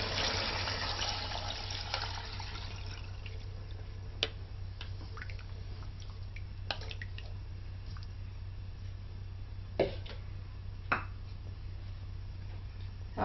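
About 1.5 litres of water pour from a container into a pot of 1 kg fried rice, a soft continuous splashing that fades into faint trickles and a few sharp clinks.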